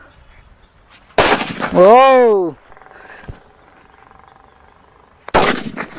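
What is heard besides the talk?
firecrackers bursting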